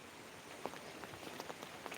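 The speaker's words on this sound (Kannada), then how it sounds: "ಮತ್ತೆ ಮಳೆ ಬಂತು." Rain falling outdoors, a dense patter of drops striking surfaces with scattered sharper taps, fairly soft and steady without talk.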